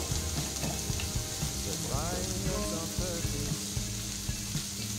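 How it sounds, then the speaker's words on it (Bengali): Steady sizzling of snake gourd frying in a pan, a continuous crackle with occasional stirring knocks, close and fairly loud. "আবার একবার ঢাকাটা দিয়ে আবার কিছুক্ষণ আমি এটাকে ফ্রাই করে নেব"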